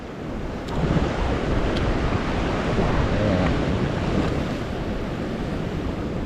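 Large ocean waves pound a rocky shore during rock fishing, a continuous near roar of surf mixed with gusting wind buffeting the microphone, with no voices.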